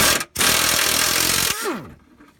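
A power tool loudly spins out the last bolts of a rusty Subaru WRX front subframe, running in one sustained burst after a brief start, then winding down to quiet.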